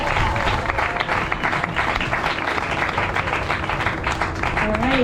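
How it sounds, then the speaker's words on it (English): A crowd at the 2023 Santa Lucia Festival coronation applauds, steady loud clapping throughout with some crowd murmur and a voice beneath the applause. "Give a round of applause for that"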